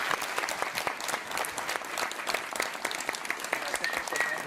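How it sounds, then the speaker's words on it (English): A modest group claps for a chef, with individual hand claps distinct in a lively, uneven patter that continues steadily with no voices. "Un aplauso por Víctor, por favor."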